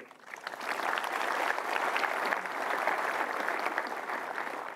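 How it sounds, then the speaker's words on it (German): Audience at a developer conference applauding, clapping that swells quickly from quiet and holds as a moderate, even patter before easing slightly at the end. "Ja, einen kleinen Applaus"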